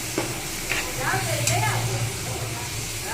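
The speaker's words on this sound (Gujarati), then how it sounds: "એક જ ચમચી જેટલું આપણે એમાં પાણી એડ કરશું. મસાલા આપણા બળે નહીં એટલા માટે." Steady sizzling of a masala dosa spice paste with a spoonful of water in a hot pan, with a few scraping stirs, while a voice talks over it close by.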